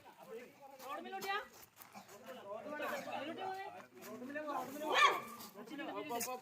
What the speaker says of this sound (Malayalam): നായി ഭയങ്കര ചൊറയാക്കുന്നുണ്ട് കേട്ടോ